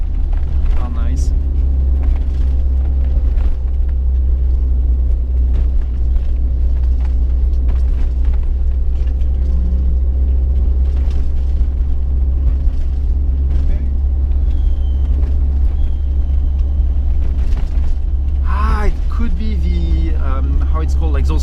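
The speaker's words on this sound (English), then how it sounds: "The engine brake is absolutely working perfectly, like it should on a diesel car." A 1995 Isuzu Elf diesel camper van engine-brakes downhill, making a loud, steady, deep drone with constant low rumble. A voice talks over it for much of the time.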